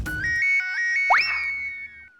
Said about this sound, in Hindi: कदम का फोन है।